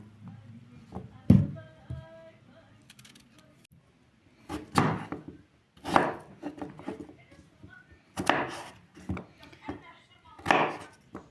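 A knife chops raw pumpkin into small pieces for pumpkin pilaf, with separate bursts of firm cuts against a board spaced a second or two apart, close by, while a voice talks between them.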